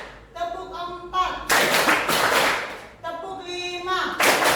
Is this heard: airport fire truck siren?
no